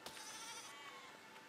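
A single sheep in the video game Besiege lets out a short, clear bleat, alone with no talk.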